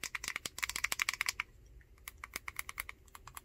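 Buttons pressed on a Razer Kishi Xbox controller, a close run of quick, crisp plastic clicks in rapid bursts, then sparser taps, with no talking.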